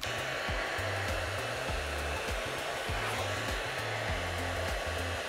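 A VS Sassoon Air Style hot air styler with a paddle brush runs steadily and loudly throughout, a constant airflow roar with a pulsing low motor hum underneath and no talking.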